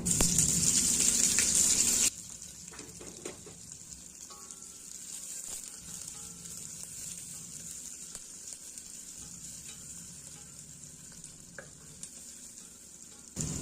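Onion sizzles in hot oil and ghee with popped mustard seeds, a steady close frying hiss with occasional stirring scrapes, after a louder burst of sizzling at the start.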